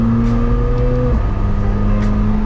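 A Lamborghini Huracan engine idles with a deep, steady drone, then the tone drops and resettles as a paddle gear shift comes in partway through, loud and close with no talking.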